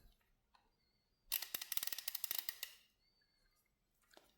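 An ICON G2 1/2-inch ratchet gives a quick burst of crisp, rapid clicking as it is spun, close and distinct, set between quiet moments.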